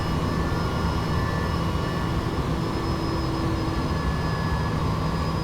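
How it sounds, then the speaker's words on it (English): Steady turbine whine and rotor drone from a Bell 429 helicopter engine in the X-Plane 11 flight simulator game, loud and unbroken with constant tonal hums throughout. "So I have the helicopter."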